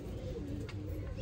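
Pigeon cooing from a big-boned male with a white-marked eye area, a low soft coo rising briefly over steady close background noise.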